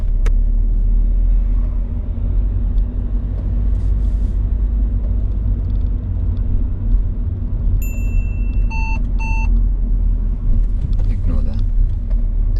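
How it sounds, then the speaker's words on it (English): Inside a car during a UK learner driving test, a parking sensor sounds a short series of sharp electronic warning beeps over a steady low engine and road rumble, with people talking in the background. "The beeping that you just heard is a safety measure in this car which tells you if you're about to crash into something."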